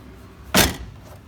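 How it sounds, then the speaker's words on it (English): An MG Midget car door fitted with a new seal slams shut in a single sharp, loud thud that decays quickly into a quiet room. "I don't think the door's going to shut"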